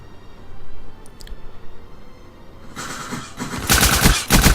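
Video game gunfire, starting with faint isolated clicks and then building into loud, rapid automatic bursts near the end.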